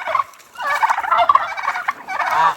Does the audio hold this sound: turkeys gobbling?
yes